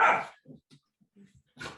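A pet dog nearby lets out a loud bark, then a few short muffled whimpers and yips, with another bark at the end.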